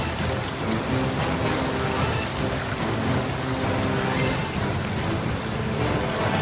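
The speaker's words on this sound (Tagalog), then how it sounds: "Ang sarap maligo sa ulan." Steady, loud rain pours down throughout a cartoon scene, a dense unbroken hiss with no voices.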